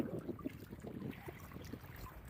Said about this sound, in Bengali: অল্প বাতাসের মতো